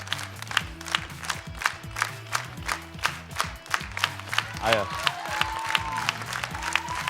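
An audience claps in rhythmic, near-synchronized bursts at a jury-judged performance premiere, the beats loud and regular over a sustained musical drone, with a brief voice speaking partway through.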